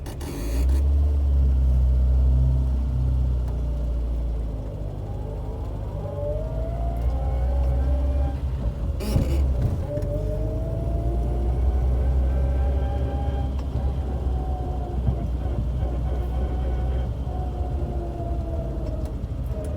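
A 42-year-old Austin Allegro driving on the road, its transmission whine rising and falling in pitch over a heavy low engine and road rumble, with a brief knock midway.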